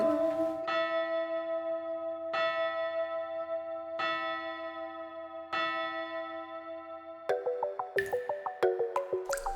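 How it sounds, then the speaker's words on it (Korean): A bell chimes to mark midnight on a Korean dating reality show, ringing four slow, sustained tones that hang and decay, then a quicker run of brighter chiming notes at the end. No one speaks. "자정을 알리는 종소리가 울립니다"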